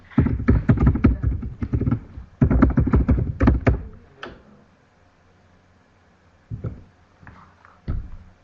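A computer keyboard clatters in quick dense runs of keystrokes, loud and close, then goes quiet before a couple of short isolated bursts of taps.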